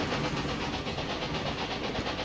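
A train in the railway management game Railway Empire 2 runs along at a steady pace, with a continuous rumble and repeating rhythmic clatter filling the whole stretch.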